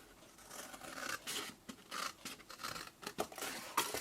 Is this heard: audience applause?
no